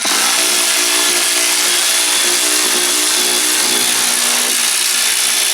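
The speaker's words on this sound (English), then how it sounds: "you can kind of just hear how weak the gun is" A weak cordless impact gun works on bolts of a Honda CR-X, giving a loud, close, continuous buzzing whir that runs unbroken from start to finish.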